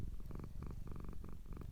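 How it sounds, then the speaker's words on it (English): A cat purrs gently in a soft, low rumbling rhythm of repeated breaths, steady and close in a quiet setting. "the cat gently purring beside her"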